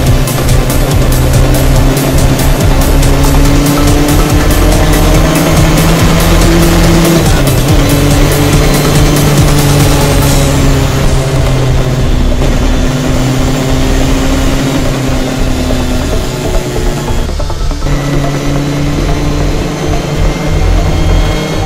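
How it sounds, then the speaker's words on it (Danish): A race car at Thruxton Circuit roars past at full throttle, loud and close, its engine note rising and falling through gear changes and corners. "Helt tydeligt, at det her er en ægte racerbil."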